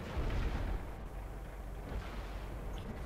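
Tank cannon fire in World of Tanks on the Siegfried Line map, heard as a heavy low boom at the start. A faint rumbling battle background follows and stays fairly quiet throughout.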